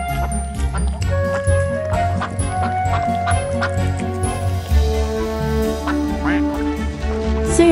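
Ducks on an animated duck farm quack repeatedly and busily, several calls overlapping against a steady backdrop of musical score, with no talking heard.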